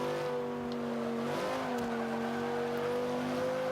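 A 2005 Honda NSX-R in the Forza 5 racing game holds a steady engine drone that dips briefly mid-run, then climbs in pitch again, close and loud, with no voices.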